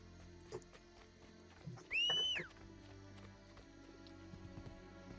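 A horse in Assassin's Creed Brotherhood gives one sharp, loud whinny in the middle, surrounded by faint hoof clops and quiet ambience.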